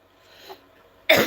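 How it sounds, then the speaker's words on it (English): A single sharp cough bursts out at the end, loud and close, after near silence. "this cough is still trying to kick my butt"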